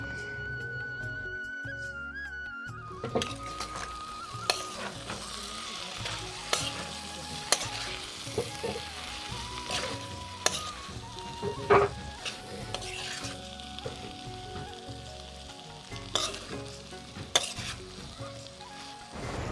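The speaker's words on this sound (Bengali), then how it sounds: "এবার আমি আগে থাকতে ভেজে রেখেছিলাম চিংড়ি মাছটা এবার দিয়ে দেব চিংড়ি মাছটা" Fried prawns sauté in a pan with masoor dal and Malabar spinach, a steady close sizzle running throughout. Sharp, intermittent clinks and scrapes from a stirring spoon cut through it, and no one speaks.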